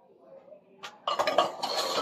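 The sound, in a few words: tin cans being handled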